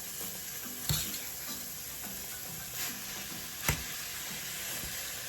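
Quiet, steady sizzling in a pan while cabbage and salt fish are stirred for a Jamaican dish, with a few sharp utensil knocks against the pan breaking through the frying hiss.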